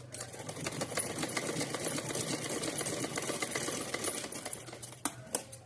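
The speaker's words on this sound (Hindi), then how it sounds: "हम इस पर एक सिलाई और लगा देते हैं थोड़ा फिर।" Sewing machine stitching a small Kanha ji dress, a steady fast mechanical whirr with a rapid needle patter running continuously and fairly quietly, ending in a few separate clicks.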